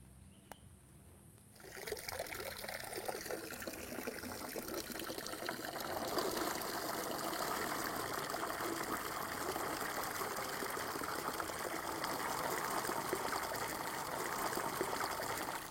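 Running water splashes and trickles steadily as freshly harvested coffee cherries are washed, beginning quietly and then swelling into a continuous, close gush that lasts to the end.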